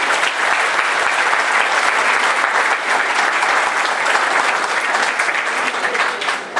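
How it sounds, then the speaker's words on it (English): Sustained applause from a community breakfast audience honoring the NYPD, steady and dense dry clapping filling the room for several seconds without a break. "So let's give them a round of applause."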